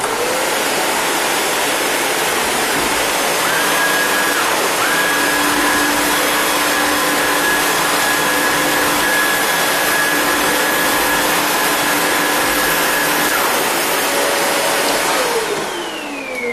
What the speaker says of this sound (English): let's compare it to my supposedly quiet canister